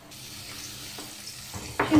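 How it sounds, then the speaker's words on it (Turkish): Soft, steady sizzle of chopped onions frying in a pan, close up, growing briefly louder as they are stirred at the end. "soğanımı bir güzel kavuracağım"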